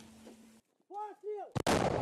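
A deep boom of a D-30 howitzer shot bursts out after a tone and a few whooshing sweeps, loud and sharp at the end.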